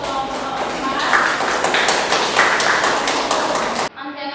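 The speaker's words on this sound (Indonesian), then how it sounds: "Kita berikan sekali lagi tepuk tangan untuk kelompok 4" Classroom applause for a student group during a guidance lesson: dense, steady clapping from many hands fills the room for several seconds, then cuts off abruptly.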